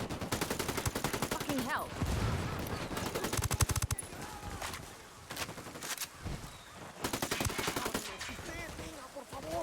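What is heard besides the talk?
gunfire from shooting enemies in the video game Ghost Recon Wildlands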